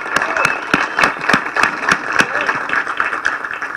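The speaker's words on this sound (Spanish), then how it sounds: "Un aplauso, ¿no?" Scattered, uneven clapping from a gathered crowd at a tech meetup in Bogotá, with distinct individual claps standing out over a murmuring background and a steady hum.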